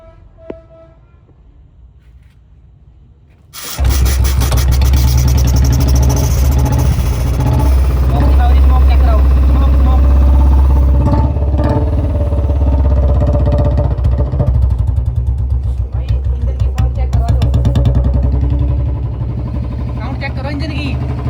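A Royal Enfield Bullet 350 motorcycle, just serviced for a ticking engine noise, fires up after a few quiet seconds and settles into a loud, steady thumping idle that runs on to the end.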